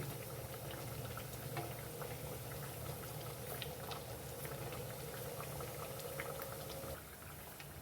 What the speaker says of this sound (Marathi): आता याला एका बाजूनी आणखी असे 2-3 मिनटं आपण तळून घेऊ